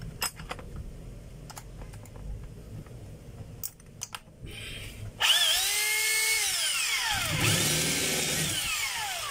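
A DeWalt D25032 rotary hammer drills into steel. First come a few faint scattered clicks and handling knocks, then the motor starts loud and close with a whining, rising and falling drone that carries on to the end.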